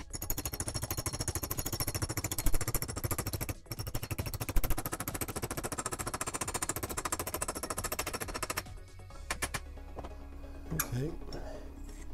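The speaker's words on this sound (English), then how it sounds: "I'm gonna take a hammer. I don't wanna hit up here on here. I wanna keep my hits pretty low down here because I wanna flatten this." A hammer striking a thin aluminum sheet to flatten it for a jet pack prop: rapid, steady metallic taps in a long run, then a few scattered knocks, with someone talking throughout.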